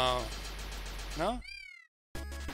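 Cartoonish cat meows sound in the Starboy Adventures video game, a couple of rising and falling meows followed by a longer drawn-out one, then a brief silence as game sounds return.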